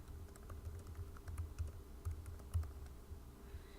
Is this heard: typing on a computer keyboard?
yes